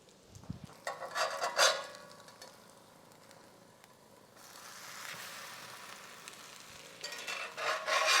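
Thick slices of French toast frying in a pan, with soft intermittent sizzling bursts that swell and fade as the pieces settle into the hot fat.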